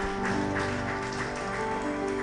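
A church congregation claps together, a brief patter of applause at moderate distance with a steady hum beneath.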